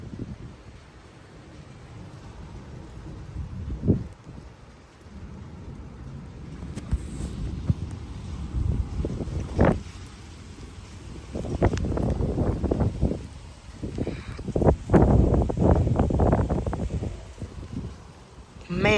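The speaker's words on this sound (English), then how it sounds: "these are like 35-mile-an-hour gusts." Strong thunderstorm wind gusts surge in irregular bursts, a rushing roar of moving air that swells louder in the second half, with brief thumps and noise against the microphone.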